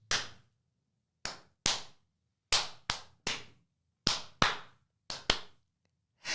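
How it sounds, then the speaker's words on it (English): Several people clap their hands in sharp, separate bursts to mark the start of a podcast recording, the claps uneven in timing and loud in an otherwise quiet room. "I'm just going to do the claps first"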